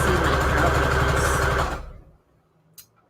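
A sewing machine stitches right along the edge of fabric and lace scrap trim, a loud, steady mechanical whir running for under two seconds before cutting off, followed by near-silence and one small click.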